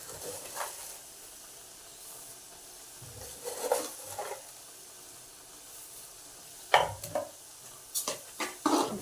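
Sugar stirred into bottle gourd halwa cooking in milk in a pan. A soft hiss sits under intermittent scraping strokes of a spoon, quiet at first and turning into quicker clustered scrapes toward the end.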